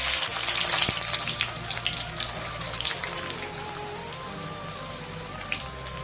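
Onions fry in oil in a kadhai for a fish egg curry. A dense, close sizzle crackles like rain throughout, loudest at the start with a sharp tap near the first second, then settling into an even hiss, with no voices.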